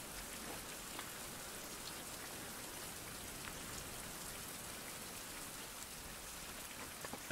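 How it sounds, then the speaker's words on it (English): Rain falling in a 16th century survival game, a soft, even hiss of steady rainfall with faint droplet patter throughout, quiet and continuous with no voices. "Wow, it's been raining for a while."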